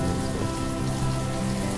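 Steady rain patters across surfaces in the city-building game Banished, an even, continuous hiss without voices or thunder.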